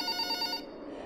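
An old-style telephone bell rings in a psychological horror video game, a rapid trilling ring that stops abruptly partway through, leaving a faint hum.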